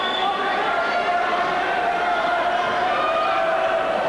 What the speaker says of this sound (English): their throng of supporters are just cheering them on